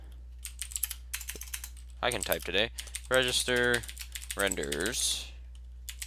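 Code being typed on a computer keyboard: a quick run of clicking keystrokes, interrupted by someone talking over the typing.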